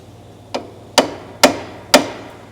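Four sharp metallic hammer strikes ring out at a steady pace, up close, driving a rusty bolt from the front lower control arm of a 2010 Ford Escape.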